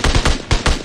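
Four quick, loud gunshots in PUBG Mobile, fired in two evenly spaced pairs, close and punchy, with no talk.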